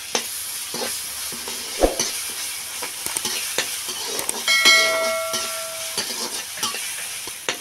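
Ginger garlic paste stir-fried in a pan, a steady crackling sizzle with repeated scraping strokes of the spoon and a brief louder clatter early on, close and alone.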